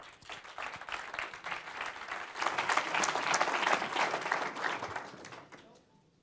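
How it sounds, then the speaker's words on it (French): Applause from an audience welcoming a presenter onto the stage at a church app pitch event fills about six seconds. Dense clapping swells steadily, peaks midway, then tapers away at the end. "Voici Pierre Schneider, sous vos applaudissements"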